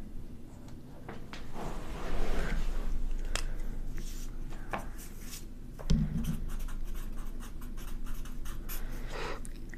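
Colored pencil scratching steadily across paper while drawing skin tones, a close, continuous dry scraping with one brief louder knock partway through.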